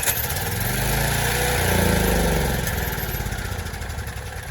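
Troy-Bilt generator engine running after a start, a steady close mechanical drone that swells slightly then settles, loud throughout with no voices.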